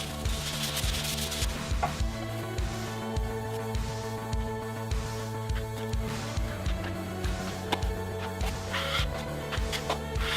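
A drywall joint compound patch is sanded by hand with a steady rhythm of rasping, rubbing strokes. The sound is close and continuous, and no speech is heard.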